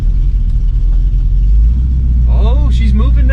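An abandoned Ford Mustang, freshly revived, rolls off under its own power with a low, loud engine rumble throughout, while someone talks over it in the second half.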